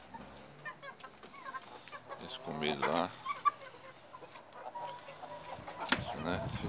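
Hens clucking at a feeding spot on a farm, short scattered clucks and calls with some rustling, while a person talks over them.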